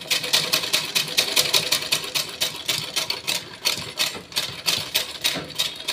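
A sewing machine stitches fabric at a tailoring class in a fast, even run of needle strokes, with a rapid mechanical clatter continuing steadily throughout, close and alone with no voices.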